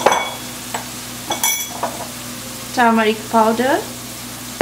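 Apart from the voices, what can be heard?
stirring spices in frying pan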